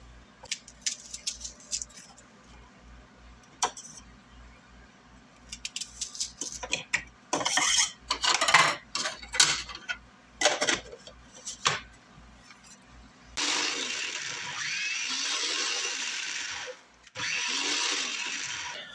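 Small electric food chopper mincing onion in a home kitchen, heard as short buzzing bursts with clicks and clatter, then two longer steady whirring runs at the end.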